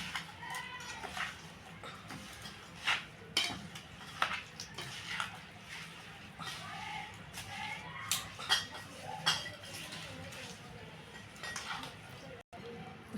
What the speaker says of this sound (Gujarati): હવે આપણે જોઈ પ્રમાણે કાચો ગુંદ ભેળવે જવાનો અને હલાવી જવાનું